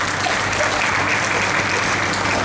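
Steady applause from a live audience at a dastangoi storytelling gathering, dense and even clapping filling the room for a couple of seconds without a break.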